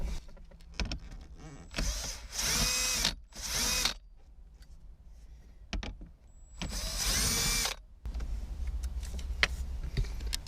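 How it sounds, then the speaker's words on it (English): A power tool with a 10mm socket whirs in three bursts, removing bolts from a 2014-2016 Lexus IS, two close together then one more after a pause, with faint clinks and handling noise between. "We're going to go ahead and remove them using our 10mm socket and our power tool."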